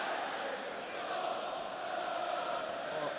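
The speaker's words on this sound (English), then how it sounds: "Crowd has been quiet at times, but not now." Dense, steady roar of a football crowd at a Middlesbrough versus Arsenal match, a broad continuous wash of voices holding loud throughout with no break.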